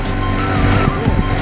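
A motorcycle engine, not a 100cc one, runs loud and close with a buzzing, rising and falling drone over about a second and a half, with no talk over it.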